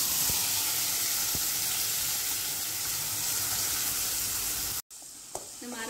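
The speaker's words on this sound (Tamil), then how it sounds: "எண்ணெய் சுடாயிடுச்சு, நம்ம அரைச்சி வச்ச பேஸ்ட்டை சேர்த்துக்கலாம்." Ground garlic masala paste frying in hot oil in a kadai, a steady loud sizzle that holds evenly for several seconds, cuts out briefly, then resumes softer with faint scattered clinks.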